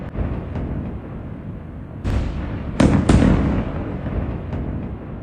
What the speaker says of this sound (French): des explosions et des attaques de la part d'Israël sont signalées